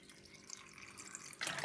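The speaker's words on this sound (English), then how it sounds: "I put roughly about 2 cups of water in it" Water poured into a blender for making sea moss gel, about two cups, starting as a soft trickle and then rising into a louder, fuller splash near the end.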